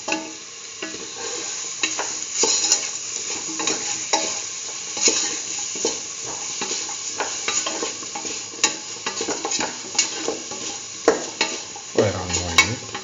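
Salt is stirred into a simmering chickpea and beetroot stew in a pan, a loud steady sizzle broken by repeated scraping stir strokes, no voices.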